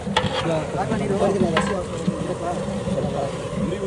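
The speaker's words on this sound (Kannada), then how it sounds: "ಟೊಮೊಟೊ ಹಾಕಿ ಫ್ರೈ ಮಾಡೋಣ" Tomatoes frying in a hot pan, a steady broadband sizzle continuing throughout with occasional stirring clinks, close and moderately loud.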